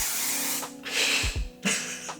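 Setting spray misted onto a face in short bursts: two or three close, airy hissing sprays, each lasting about half a second, separated by brief pauses and light handling noises.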